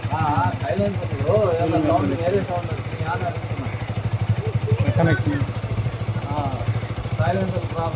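A motorcycle engine idles with a low, steady throb during a silencer check at a roadside police inspection, while several people talk loudly over it.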